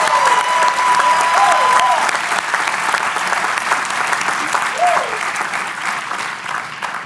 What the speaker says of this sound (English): Let's give one more round of applause to all the student speakers.